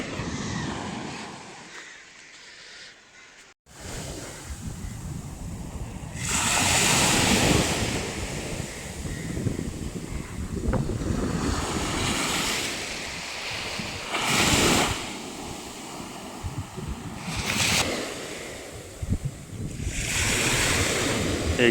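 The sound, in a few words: sea waves at a hidden beach in Guhagar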